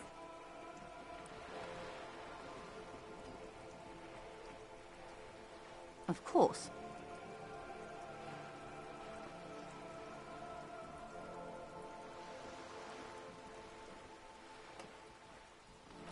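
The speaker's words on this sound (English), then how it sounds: "All around you, rain keeps falling down. On the wooden boards she's standing on, and on the water around you." Steady, soft rain falls on wooden boards and harbour water in the Disco Elysium video game, a faint, even patter throughout with one brief knock partway and a short spoken line.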